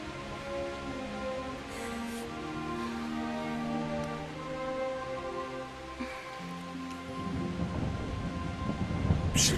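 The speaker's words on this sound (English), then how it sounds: "Not afraid of thunderstorms, are you?" A thunderstorm with rain sounds in Kingdom Come: Deliverance under a sustained musical score. Soft rain patter is joined by faint rumbles, and the noise swells toward the end.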